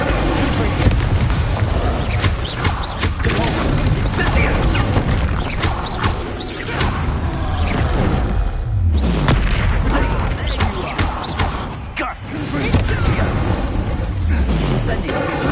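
Repeated booming spell blasts and crashes from the Hogwarts Legacy video game, including the Expulso explosion spell, loud and dense amid combat noise, with a player shouting over the action.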